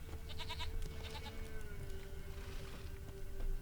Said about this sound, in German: Ist das die Ziege?